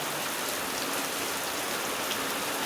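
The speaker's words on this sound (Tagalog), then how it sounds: "Maya-mayat ulan, maya-mayat ulan." Steady rain falling in Quezon City, Metro Manila, during nearly three weeks of nonstop rain and flooding: a dense, even hiss of drops on surfaces, continuous and unbroken, with no voices.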